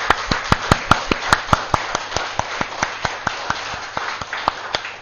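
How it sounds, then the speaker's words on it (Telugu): Audience clapping hard and steadily together at a spiritual talk, a regular train of sharp, loud hand claps in quick rhythm over about five seconds, with no speech over them. "ఒక్కసారి కాశీనగరానికి మనం గట్టిగా గట్టిగా గట్టిగా గట్టిగా చప్పట్లు కొట్టుకుందాం"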